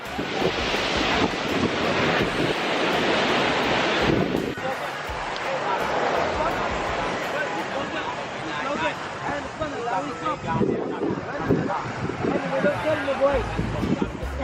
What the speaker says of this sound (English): We out here on the beach in the Bahamas.